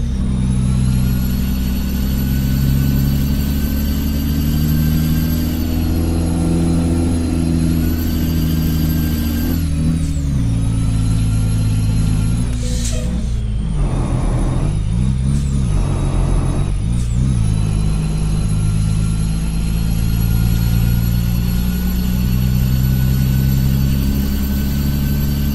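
A simulated heavy truck engine drones steadily in Euro Truck Simulator 2 on a Brazilian route from Campo Grande to Miranda, its pitch rising and dropping through gear changes midway, then settling into a sustained loud hum.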